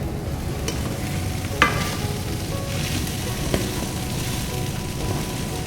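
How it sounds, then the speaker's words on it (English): Green beans sautéing in a pan give a steady crackling sizzle with a couple of louder utensil knocks from stirring, close and unaccompanied by speech. "We're just going to saute this for about 2 to 4 minutes"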